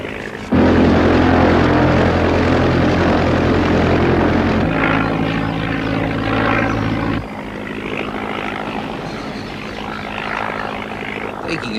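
A B2C propeller aeroplane climbs slowly, its loud, steady engine drone and harmonic hum filling the air and continuing without a break.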